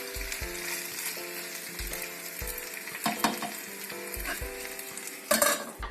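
Charquicán, a Chilean stew with potatoes and squash, sizzles in a pot while being stirred, with rhythmic scraping strokes every second or so over a constant frying hiss and a few brighter clatters of utensil on metal.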